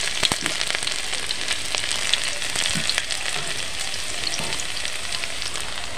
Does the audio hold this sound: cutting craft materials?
no